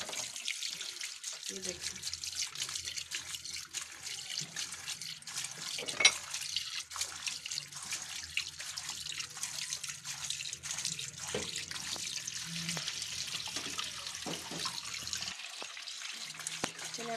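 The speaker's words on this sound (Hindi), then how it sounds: "चलिए मैं आपको इसको धो रही हूँ भिंडी को।" Okra is washed by hand under a running kitchen tap, with a steady hiss of flowing water and splashing in the sink throughout. Someone speaks briefly over the water.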